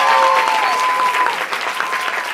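A live comedy show crowd claps and cheers to vote for an option, loud continuous applause with shouting voices, tapering slightly over a couple of seconds.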